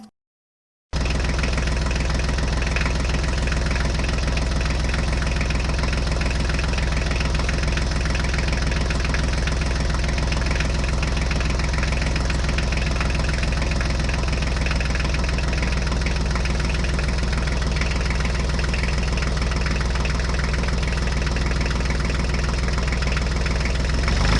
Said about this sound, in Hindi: देखो बच्चों, ट्रैक्टर तो पहुंच चुका है।